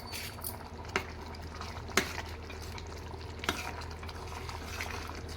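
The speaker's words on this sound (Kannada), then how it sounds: "ನೋಡಿ ನಾನು ಅಕ್ಕಿ ಹಾಕಿ ಚೆನ್ನಾಗಿ ಕೈ ಆಡಿಸಿದ್ದೀನಿ" Rice is stirred into masala in a pan, heard as a faint, steady scraping and sizzling wash with a few soft clicks from the utensil, quiet and continuous throughout.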